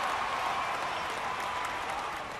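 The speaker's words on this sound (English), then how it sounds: "Mariners fans with a mock cheer" Mariners fans at a 1977 Seattle home game against the Boston Red Sox give a mock cheer, a broad, even wash of crowd applause and noise, steady and distant, lasting a couple of seconds.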